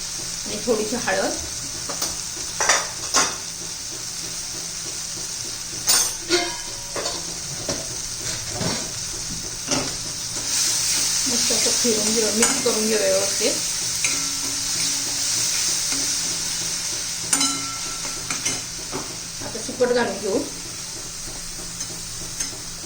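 Spices and red chili powder stirred and fried in a pan for a dried-fish chutney, with repeated scraping stirs and a steady sizzle, close and moderately loud, without talk.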